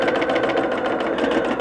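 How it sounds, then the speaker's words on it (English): A sewing machine stitches steadily with a presser foot right along the edge of fabric piping, giving a continuous close mechanical whir with a fast even rhythm and no voices. "stitching right up against the edge of the piping"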